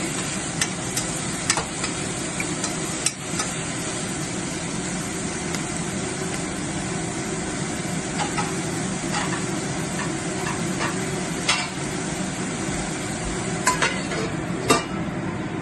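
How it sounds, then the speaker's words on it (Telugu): Onions frying in a pan with tempering spices such as mustard seeds, cumin and urad dal for an egg curry, a steady sizzle with occasional sharp clinks and stirring scrapes, close and continuous with no talk. "ఇప్పుడు పోపు దినుసులు వేగిన తర్వాత ఆనియన్ వేసుకుంటాం"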